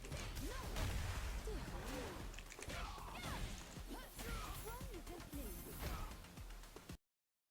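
Street Fighter 6 combat with Manon landing a midair drive impact into a crumple and combo, a steady stream of heavy hits, smashes and whooshes layered with game voices and music, then a sudden cut to silence.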